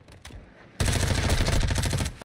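A loud, sustained burst of rapid automatic gunfire in a video game breaks in after a brief quieter stretch and rattles on without pause until near the end.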